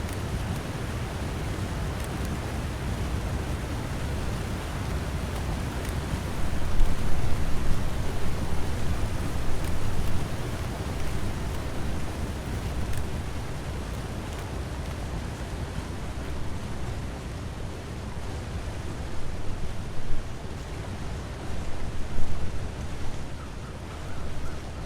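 Broad, constant rushing roar of a video game waterfall, with no talk, swelling slightly louder in a few spots before settling back to an even wash.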